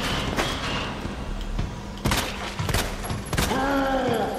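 Gunfire in the Resident Evil 2 Remake video game: several sharp, loud shots ring out at uneven intervals over a dark in-game ambience, with a rising tonal whine near the end.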